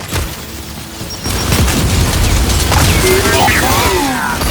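A frag grenade booms amid rattling bursts of gunfire and mechanical clatter in the shooter video game Gears 5, loud and busy from start to finish.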